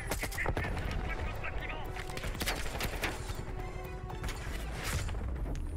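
Constant, dense gunfire and crashing from the Call of Duty Black Ops campaign on Xbox One X rattles on throughout, with voices faintly mixed in.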